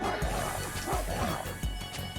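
A dog enemy in The Mummy Demastered video game gives a few short barks and yelps among game crashes and thuds over steady background music.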